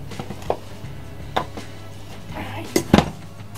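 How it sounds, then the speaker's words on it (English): A glass jar of cinnamon sugar is handled and shaken, giving a few sharp clinks and rattles, loudest in a quick burst near the end, over a quiet kitchen background. "Place it in the jar and give it a shake."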